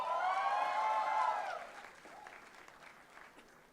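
Graduation convocation audience breaks into loud applause with some cheering, a dense clapping wash that fades over the last couple of seconds.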